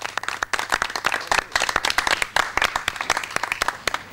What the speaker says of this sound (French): les artistes de rue s'applaudissent eux-mêmes